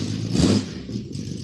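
Small 2.8 engine with carb tuning still needed and a faulty coil, revving up briefly then dropping back to a rough, uneven idle, close and moderately loud.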